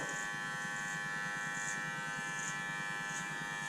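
Electric hair clipper buzzing steadily and close during a barbershop blowout, a continuous motor whine with no talking.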